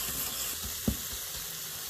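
Red chili powder and coriander seed powder cooking in a pan for kofta curry make a quiet, steady sizzle, with a single brief knock or scrape of a utensil midway.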